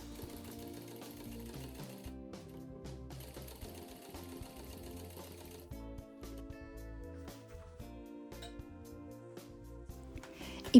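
A sewing machine topstitches all the way around a fabric piece for a Christmas gift project, a steady, quiet mechanical whirr with a rhythmic needle patter that runs continuously, with a brief change in pace midway.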